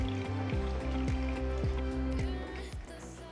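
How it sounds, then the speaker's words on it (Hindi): Water is poured into a container of oats, a close, continuous trickling stream whose ringing tone shifts as it fills, lasting a few seconds with no speech. "इसमें भी हम बस सिंपल थोड़ा पानी डाल लेंगे।"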